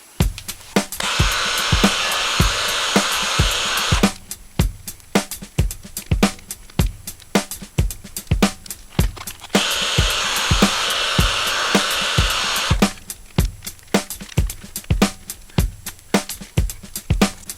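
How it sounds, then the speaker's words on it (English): A heat gun blows hot air to lift logos off a drum, its steady roaring hiss switching on and off in two long stretches, while sharp rhythmic clicks and taps repeat close by throughout. "I want to get rid of these silly little logos that I put on with the help of a little wafted heat from the heat gun"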